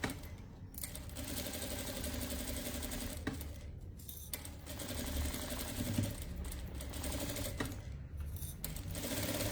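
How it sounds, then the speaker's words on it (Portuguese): A sewing machine runs steadily, stitching a fabric bottle holder with a strap, its fast needle clatter continuous for most of the stretch with a few brief pauses and no talking. "vou fazer uma costura"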